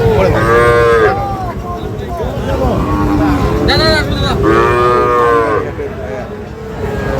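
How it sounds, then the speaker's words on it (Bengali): Sahiwal calves and cattle at a busy livestock market moo repeatedly and loudly, several long drawn-out calls overlapping close by, with people talking and market bustle in the background. "সাইওয়াল জাতের বাছুর গরুগুলো দেখছি আমরা"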